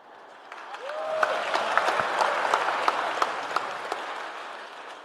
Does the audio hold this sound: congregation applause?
yes